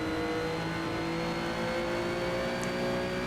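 A Porsche 911 engine droning steadily in the Need for Speed Shift 2 racing game, a sustained high-revving tone heard alone and close, with no talk over it.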